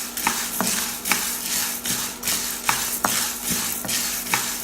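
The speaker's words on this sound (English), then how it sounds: "Stir continuously to avoid burning." A utensil stirs food roasting in a pan over medium-low heat, scraping and knocking against the pan in a steady rhythm of sharp taps about twice a second, with a soft sizzle underneath.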